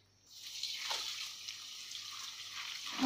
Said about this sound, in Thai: ล้างน้ำ